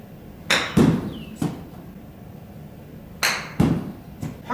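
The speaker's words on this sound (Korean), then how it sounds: "제가 들고 있는 것이 56도 웨지이기 때문에 한번 쳐보면서 느낌을 한번 얘기해 보도록 하겠습니다." Several sharp clicks of a golf ball struck with a Mirai Galaxy 3 56-degree wedge at a practice range, crisp impacts spaced irregularly with quiet pauses between, fairly close, no talking.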